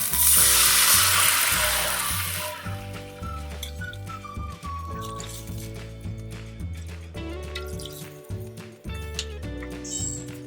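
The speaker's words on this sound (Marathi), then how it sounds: "रवा आपण एक वाटी घेतला आहे तर आपण यामध्ये तीन वाटी पाणी घालूया" Three bowls of water hit a hot pan of roasting semolina and dry fruits for a sweet prasad shira, setting off a loud hiss. The burst of sizzling lasts about two seconds, then dies away under steady background music.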